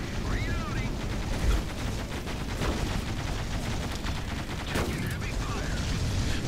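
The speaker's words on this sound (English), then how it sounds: "using the shotgun now, which in general is a very close range weapon" Gunfire and grenade blasts from the space shooter video game Shattered Horizon, with muffled shotgun shots and EMP grenades in a dense, busy mix of bursts under a talking voice.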